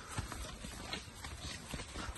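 Horses at a riding stable in Osh clop their hooves in a steady, fairly close rhythm of hollow knocks, with a faint breathy background and no other sounds standing out.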